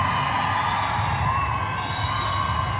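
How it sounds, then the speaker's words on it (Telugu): An audience at a launch event for the film Mechanic Rocky claps and cheers in a dense, steady wash of crowd noise that holds at full loudness throughout. "అరే శ్రద్ధ కోసం క్లాప్స్ కొట్టాలా పాపం మనం."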